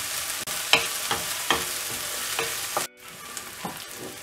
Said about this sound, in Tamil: வெங்காயம் ஆட் பண்ணிவிட்டு ஃப்ரை பண்ணி விடணும் இதை நல்லா ஃப்ரை பண்ணிடணும்